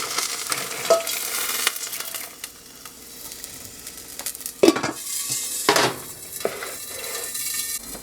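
Freshly popped popcorn tipped out of a hot pot, a loud close rustle and clatter of kernels with metallic scrapes and knocks against the pot, and a faint sizzle underneath.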